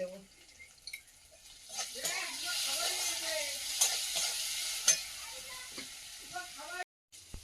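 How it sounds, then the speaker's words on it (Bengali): Masala frying in a pan with vegetables, coriander leaves, ginger paste and a splash of water, giving a steady close sizzle and hiss with occasional stirring knocks, while a voice talks softly underneath. "হালকা একটু জল দিয়ে মশলাটা ভেজে নেবো"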